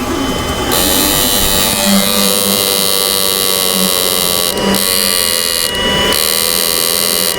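An old inverter under a 500 watt load gives a steady electrical hum with a constant buzz throughout, with brief dips in the high hiss near the middle and end.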